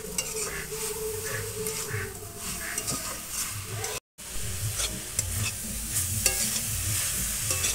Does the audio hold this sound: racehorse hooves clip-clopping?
no